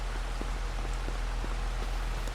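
Steady rain falls in the Farming Simulator 25 video game at Riverbend Springs, a constant soft hiss with faint, scattered drips tapping nearby surfaces, with no talking.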